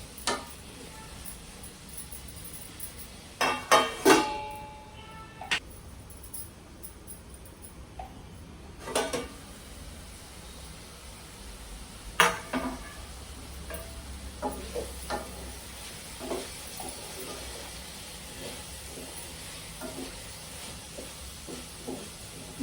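Chopped onions frying in a pan for a crab curry, with scattered clinks and scrapes of a spoon stirring them at close range and a low sizzle underneath.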